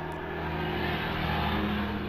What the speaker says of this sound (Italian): Un trattore che passa